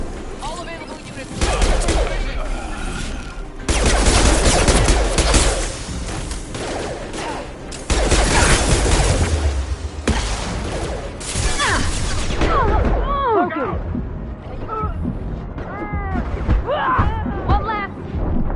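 Gunfire in Mass Effect 2, heavy rapid weapon bursts and blasts filling most of the stretch, loud and close, with voices speaking over and between the shots as the firing thins out.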